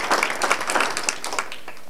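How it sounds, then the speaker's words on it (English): Short burst of audience applause at a church-hosted public gathering, a small crowd clapping steadily for under two seconds before fading. "I think another round of applause for their efforts is in order."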